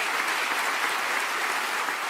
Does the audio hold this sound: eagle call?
no